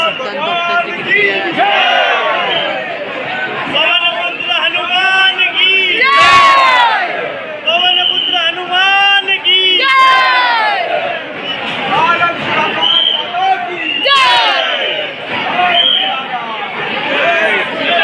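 A dense crowd at a temple roars continuously with overlapping shouts, chanted calls and cheering, loud and close, with many voices talking over one another throughout.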